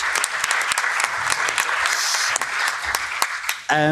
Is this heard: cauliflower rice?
no